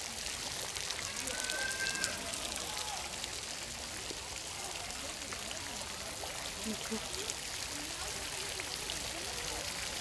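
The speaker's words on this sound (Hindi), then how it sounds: "सॉरी फाउंटेन है ये भी छोटा सा।" Small water fountain beside a lake in a Udaipur garden, giving a steady, soft splashing and trickling wash of water throughout, moderately close and even, with faint outdoor ambience behind it.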